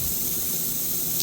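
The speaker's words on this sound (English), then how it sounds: "See how I'm spraying air?" Compressed air blown at close range onto the freshly painted Inca silver body of a Strat-style guitar, a brief steady hiss with no talking.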